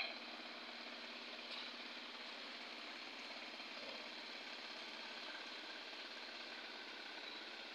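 An irrigation water pump engine in farm fields drones steadily at a distance, a faint, even mechanical hum with no pauses.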